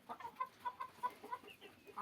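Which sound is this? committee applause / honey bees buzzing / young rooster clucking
young rooster clucking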